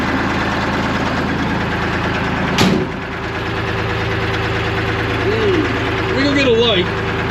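A 1975 International Loadstar 1850 truck engine idles steadily with a low, continuous rumble and a brief sharp clunk partway through, while someone talks faintly over it.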